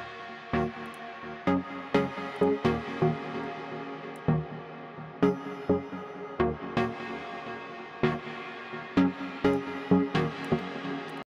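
Short chord stabs from a minimal house synth patch built in Serum with heavy reverb, struck in a loose rhythmic pattern, each hit decaying into a washy tail, played alone.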